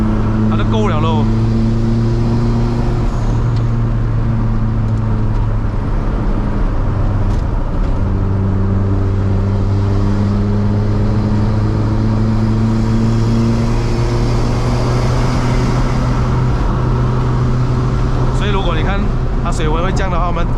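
A turbocharged 1.3-litre Perodua Kelisa with 180 whp drives uphill on a mountain road in Malaysia, its engine droning loudly and steadily with rising and falling tones as it holds part throttle. Someone talks over it throughout.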